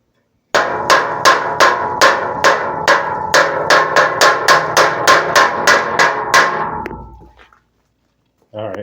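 Hammer blows pound a metal fire ring under restoration, landing as about sixteen loud, evenly spaced clanging strikes over roughly six seconds, close to the listener, before ringing off into a brief silence.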